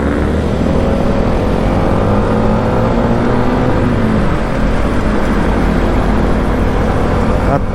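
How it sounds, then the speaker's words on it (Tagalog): Motor tricycles and other road vehicles pass on a busy street, making a continuous loud engine drone and traffic rumble throughout. "May mga tricycle, may namamasada."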